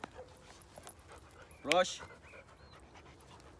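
A dog gives a brief whimpering yelp with some panting, one short burst in the middle against quiet background and nearby talk, while being held by its paws during leadership training.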